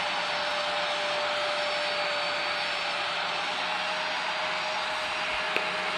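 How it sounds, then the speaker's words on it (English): Loud, steady roar of the Aerosoft CRJ's jet engines in Microsoft Flight Simulator 2024, a dense broadband whine with a sharp tonal hiss running unchanged and close throughout, alone with no talking. "I'm quickly going to turn off my engines because it's like crazy loud"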